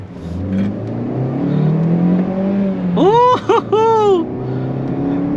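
A 2022 Maruti Baleno AGS car accelerating while driving, a loud steady engine drone that climbs in pitch through quick rising gear-change sweeps near the middle, heard from inside the cabin.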